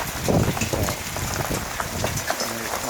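Pea-size hail falls outdoors, a steady dense patter of small impacts hissing across surfaces at even intensity without a break.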